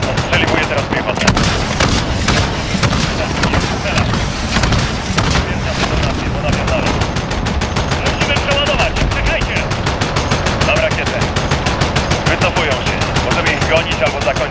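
Continuous rapid gunfire from a military helicopter-support video game, dense machine-gun bursts and heavy weapon fire running loud and unbroken, with radio-style voice callouts over it.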